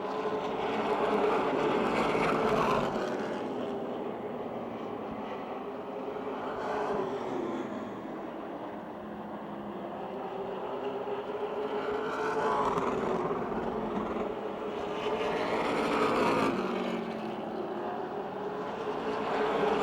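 Stock cars racing around the oval at Motordrome Speedway, engines swelling and fading in repeated passes as the pack roars by and recedes, a loud droning motor sound throughout.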